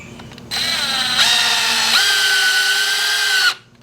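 Power drill driving a screw into a wooden deck railing: one steady, loud whirring burst of about three seconds, rising slightly in pitch partway through, close by with no talk.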